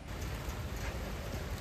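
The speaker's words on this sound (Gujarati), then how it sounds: "વરસાદ જોરદાર ચાલુ થઈ ગયો છે." Heavy rain pours steadily outdoors onto a road, a dense, even wash of hissing noise with a low rumble, moderately quiet and unbroken, with no voices.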